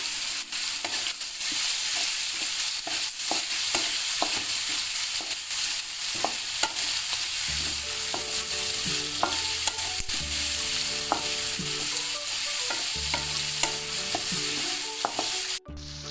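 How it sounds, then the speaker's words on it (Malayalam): Chilli chicken with curry leaves sizzles steadily in a pan, with frequent scraping and knocking of a spoon as it is stirred, close and continuous with no talking. "വഴറ്റിയെടുക്കാം ശകലം കറിവേപ്പില ഇട്ട് കൊടുക്കാം"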